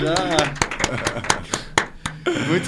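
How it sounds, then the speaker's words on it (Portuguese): Sharp, distinct hand claps ring out at a music program, coming in uneven bursts close to the microphone with voices and music under them. "Muitos aplausos."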